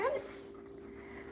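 A large Bernese Mountain Dog gives a brief, high whimper at the start, then fades into quiet indoor room tone.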